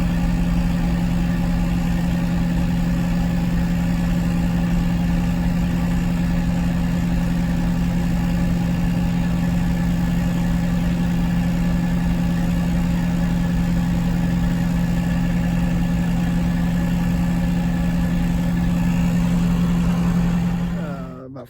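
A converted McDonald's bus cruises at highway speed near 70 mph, its engine giving a loud, steady, unchanging drone with a strong low hum that fades only at the very end.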